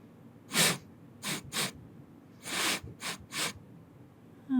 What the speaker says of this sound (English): Very interesting sniff you have there.